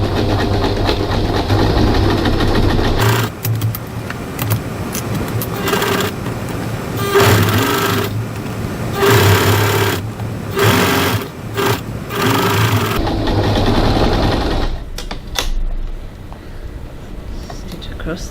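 A sewing machine stitches the seams of a crossbody bag in loud, close, steady runs broken by several brief stops, ending in a quiet pause.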